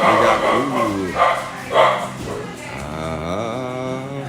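Dogs bark indoors in three loud, separate outbursts, then drop to a drawn-out whining yelp that trails on to the end.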